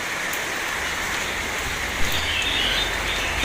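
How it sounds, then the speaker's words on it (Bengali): Heavy rain pours off a tin shed, and water runs down a wall onto stairs. A dense, steady rush of water and splashing patters fills the whole stretch at close range. "ওই টিন শেডের এদিকে পানি দেয়াল দিয়ে বেয়ে বেয়ে সিঁড়ি দিয়ে আসছে।"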